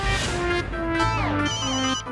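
A mobile phone ringtone plays a bright, stepping electronic melody with sliding tones, loud and close, with no voices over it.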